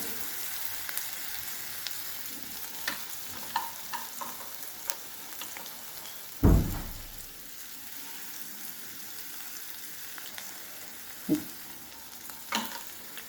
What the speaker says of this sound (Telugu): పచ్చిమిర్చి, ఆనియన్స్, కరివేపాకు వేగాక అల్లిగడ్డపై పేస్ట్ వేసాను